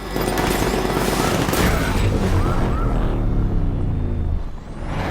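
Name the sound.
gunfire in Batman Arkham Knight video game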